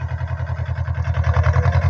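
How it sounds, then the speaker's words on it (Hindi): A tractor engine runs in a sugarcane ratoon field while soil is heaped up around the plants, giving a steady, loud, pulsing diesel chug with a fast, even rhythm throughout. "तो ट्रैक्टर लेके आ रहा भाइयों"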